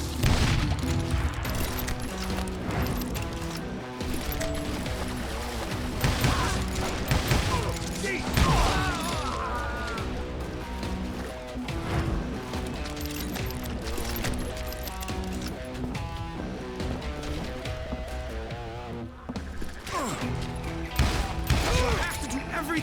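Gunfire in the Western shooter Call of Juarez: Gunslinger, dense bursts of shots and booms over a continuous game music and effects bed, loud and busy throughout.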